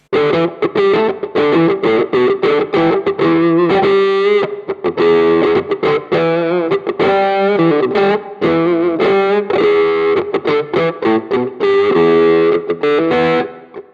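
An electric guitar plays a busy, choppy phrase through a Neural DSP Archetype: Cory Wong plugin's velocity-sensitive filter that brightens and darkens with picking strength, opening up on hard picking, loud and up close, no voices.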